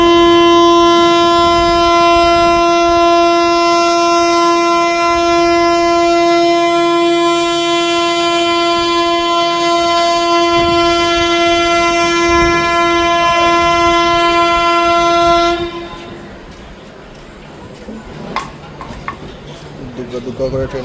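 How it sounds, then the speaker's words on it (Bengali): A long, loud train horn sounds steadily for about fifteen seconds as the Rupasi Bangla Express departs Purulia Junction, then cuts off, leaving quieter carriage rumble, clanks and the noise of movement aboard the train. "দুগ্গা করে ট্রেন আমাদের ছেড়ে দিল পুরুলিয়া জংশন স্টেশন।"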